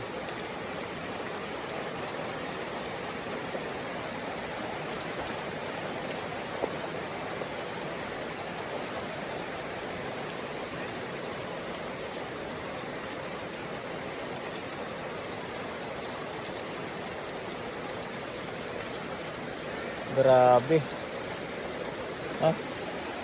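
Heavy rain pours steadily throughout the rainy season, a dense, unbroken hiss like flowing water, with a short spoken exclamation near the end.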